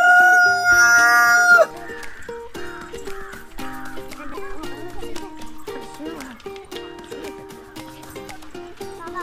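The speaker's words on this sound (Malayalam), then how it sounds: "പ്രത്യേകതയുള്ള കോഴി ഫാമിലെത്തി." Chickens and a rooster at a poultry farm: a loud crow opens, then a busy run of clucking and cackling from several birds close by.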